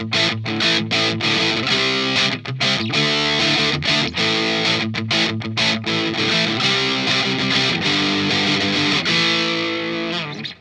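An electric guitar played through a Boss DS-1 distortion pedal, loud and heavily saturated chords with choppy rhythmic breaks over about ten seconds, no talking.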